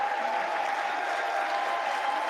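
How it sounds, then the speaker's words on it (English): A crowd in a political chamber applauds and cheers in a steady, dense wash of clapping that holds evenly for a couple of seconds without pause. "What was that cheering?"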